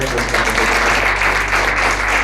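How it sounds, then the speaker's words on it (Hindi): Steady applause from a church congregation honoring young people during a testimony service, a continuous wash of clapping over a low steady hum, with no talk. "थोड़ा ताली बजाएंगे"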